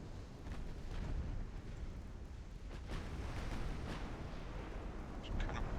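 Naval gunfire in a Royal Navy battle of Ultimate Admiralty: Dreadnoughts, secondary guns pounding enemy ships in a dense, continuous rumble of booms and distant blasts, with no clear gaps between shots.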